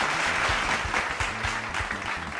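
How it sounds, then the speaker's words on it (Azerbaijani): An audience claps in a full, sustained round of applause, loud and close, with a low hum of voices underneath. "Elə at modalar evinə bir alqış gəlsin"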